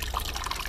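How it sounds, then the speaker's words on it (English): Water pours and trickles out of a freshly opened coconut, a brief bubbling, gurgling splash heard up close and alone. "That is crazy how much water this coconut has inside of it"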